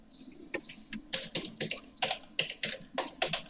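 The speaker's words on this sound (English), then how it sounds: "Or you can type on the command line." Fingers type rapidly on a computer keyboard while entering commands in AutoCAD, a steady run of close, crisp key clicks with a few louder taps and no talk.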